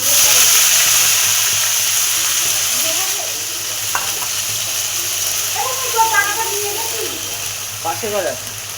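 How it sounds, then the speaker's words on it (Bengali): Onion paste goes into hot oil with fried bay leaves and dried red chillies for a home-style biryani. It makes a loud, continuous close-up sizzle, with faint talking and stirring over it. "এবার আমি দিয়ে দিচ্ছি পেঁয়াজ পেস্ট।"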